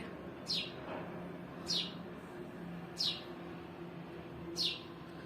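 Four short, bright sparrow chirps spaced a second or so apart over a low steady background hum, clear and fairly close.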